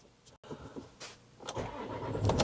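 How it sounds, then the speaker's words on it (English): A Land Rover engine cranks and catches on a newly coded key, a short starter whirr building into a rising engine note, heard close and alone. "Let's try and start the car"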